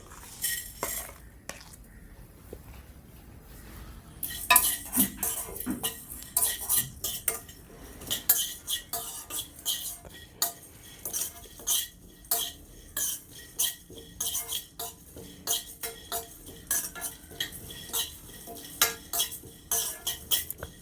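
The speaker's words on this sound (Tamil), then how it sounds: "இப்போ நம்ம எடுத்து வச்சுருக்க ஸ்பைசஸ்லாம் ட்ரை ரோஸ்ட் பண்ணிக்கலாம்." Spices dry roasting in a pan for mutton varuval, stirred with a metal spoon that scrapes and clinks steadily against the pan, close and fairly loud, with a faint sizzle underneath.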